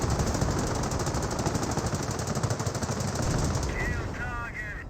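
Machine gun placement firing continuous rapid bursts in the real-time strategy game Company of Heroes, loud and dense amid battlefield noise, easing slightly near the end as other game effects chirp in.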